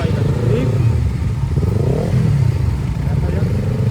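Several motorcycles idle and rev together at a moto fest gathering, a steady mid-low engine drone with clattering and occasional throttle swells throughout, loud and close, with faint voices mixed in.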